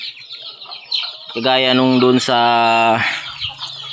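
A hen clucking loudly and close among her seven chicks, a drawn-out call lasting about two seconds with soft peeping around it, and a person speaking briefly.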